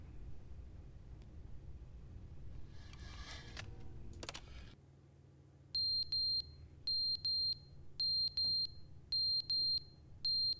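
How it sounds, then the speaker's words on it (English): Smoke alarm in the video game The Stanley Parable: after some faint clicking, short high electronic beeps sound in repeated pairs at a steady rhythm, clear against a quiet room tone. "Fire or smoke alarm, I guess."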